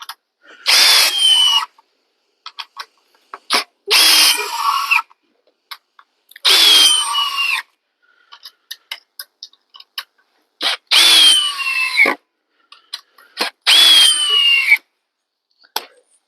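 Bursts of a DeWalt DCF601 cordless electric screwdriver driving screws, five or six separate whirring runs of about a second each with short pauses and small clicks between, close and loud with no talking.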